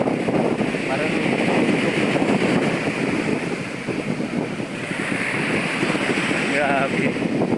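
Big Pacific waves surge onto the beach at Dingalan, Aurora, under steady wind buffeting the microphone, a continuous loud roar of surf with a voice talking intermittently over it.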